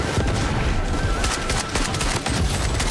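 A shotgun fires in the video game Blood Strike amid a dense, loud barrage of shots and booms that continues without a break throughout.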